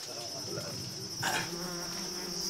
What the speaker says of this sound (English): A hive of African bees has been disturbed by the hunting party, and now they're starting to swarm